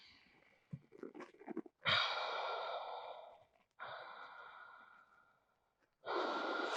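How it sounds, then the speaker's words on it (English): Slow, steady yoga breathing, close and clear: long airy breaths alternate with brief quiet pauses, three drawn-out breaths following a few shorter rustling sounds. "Five slow, steady breaths."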